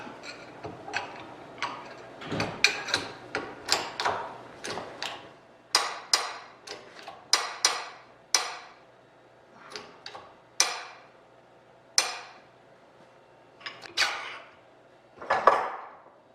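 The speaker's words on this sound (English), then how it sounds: "So I'm using this press that I made a while ago for bending stuff" A homemade press bends aluminum brackets for a Bearhawk experimental airplane's horizontal stabilizer, giving a close series of sharp metallic clicks and taps in an irregular rhythm, with no talking.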